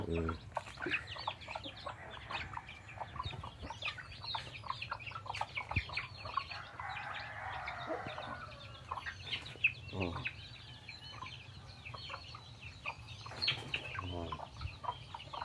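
Two mother hens that have hatched chicks cluck in a farmyard, their soft repeated clucks scattered over steady background noise, with occasional chirps mixed in.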